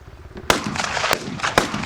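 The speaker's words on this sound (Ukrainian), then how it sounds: "І хоча стріляють бійці по мішенях" Sharp gunshots from soldiers firing at targets during training crack out at irregular intervals, three standing out loudly above a noisy, reverberant background with no clear voices.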